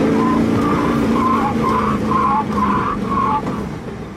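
A car turns sharply at high speed and its tires squeal and skid loudly in a long, wavering screech over steady engine and road noise.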